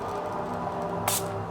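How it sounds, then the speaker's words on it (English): A single short hiss of a citrus sage air freshener spray, about a second long, over a faint steady hum. "This is citrus spray."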